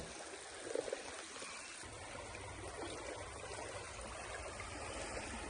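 Creek water in the main channel of a goldfields stream, a steady soft rushing flow heard alone and fairly faint throughout.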